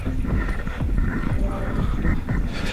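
A deer moves away through a garden, its footfalls a series of soft, irregular thuds and rustles over outdoor wind noise, fairly close and with no talking.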